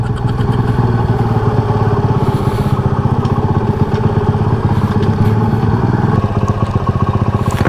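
A 1997 Gale Pro classic motorcycle engine runs close and loud, with a rapid, steady putter and rattling clatter throughout and no speech over it.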